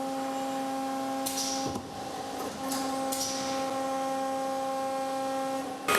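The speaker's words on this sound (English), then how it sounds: "it'll kiss cut the material in the shape and size that the customer calls for" A decal-cutting machine hums steadily in a graphics print shop, kiss-cutting vinyl material, with a constant tonal drone and a few brief mechanical clicks and swishes over it, no talking.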